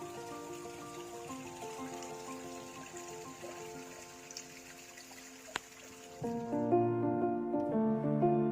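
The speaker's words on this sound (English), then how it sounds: "Got a little waterfall." Small waterfall on a hiking trail in the Ozarks, a faint, steady rush of falling water with a single sharp tap partway through and a louder, fuller tone near the end.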